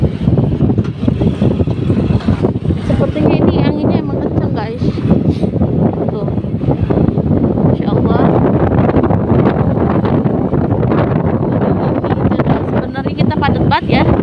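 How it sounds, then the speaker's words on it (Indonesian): Strong wind roars and buffets the microphone outdoors in a loud, steady rush that lasts the whole stretch, with people talking underneath. "Ini anginnya kenceng banget guys."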